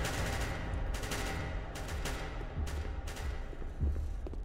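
Rapid gunfire bursts from the video game SCP: Secret Laboratory rattle loud and close in dense overlapping volleys across the whole stretch, with no voices over them.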